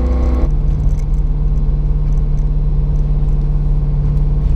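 A Chevrolet Corvette C5 Z06 engine, on a wrecked car, idles unusually high with a steady close drone, preceded by a brief louder burst at the start, no voices.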